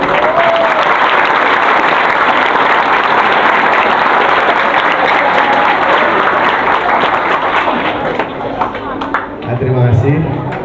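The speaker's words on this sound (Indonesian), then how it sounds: "tepuk tangan dulu" Sustained, loud applause from a room full of students at a madrasah police outreach session, steady dense clapping throughout with a few voices mixed in near the end.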